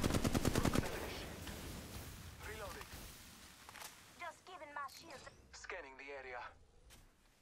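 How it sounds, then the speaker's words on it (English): Machine-gun fire in a shooter video game opens with a loud rapid burst, and then a player talks over fainter game sounds and scattered shots. "Listen up, I'm getting shot at."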